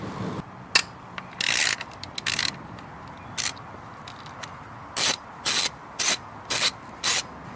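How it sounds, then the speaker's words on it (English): A ratchet with an E10 socket loosening valve cover bolts on a Mercedes M113 V8, close, loud bursts of clicking in short repeated strokes separated by pauses. "we're going to take an E10 socket, and we're going to remove each one of these bolts on the valve cover"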